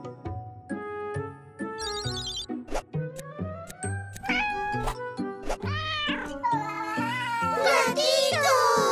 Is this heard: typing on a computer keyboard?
no